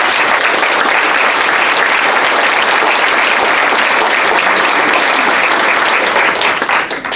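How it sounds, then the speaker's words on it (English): Warm applause from the audience at a county sheriff candidate town hall, loud sustained clapping filling the room evenly and starting to thin out only at the very end. "please give them a warm round of applause for answering the questions and being here tonight."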